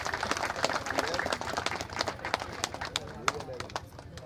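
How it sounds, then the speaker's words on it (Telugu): A crowd claps for the newly sworn-in sarpanch at a village felicitation ceremony in Pusugudem: dense, continuous applause with sharp individual claps, mixed under a voice talking over a loudspeaker. "అందరూ గట్టిగా చప్పట్లు"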